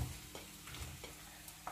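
Chopped onion frying in hot oil in a pan, a steady close sizzle with a few soft stirring scrapes, no talking.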